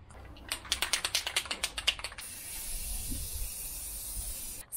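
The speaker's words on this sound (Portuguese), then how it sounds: "Então a gente comprou essa tinta spray que é para metal." Metal spray paint from a can during a van motorhome kitchen build: a rapid run of rattling clicks from the shaken can, then a long, steady hiss of spraying up close.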